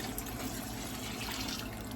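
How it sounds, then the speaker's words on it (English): Water poured from a glass into a cooking pot of vegetables for pork boudin makes a steady splashing, trickling rush, close and continuous throughout with no voices. "I'm using a glass to add the water because the pot won't fit in the sink."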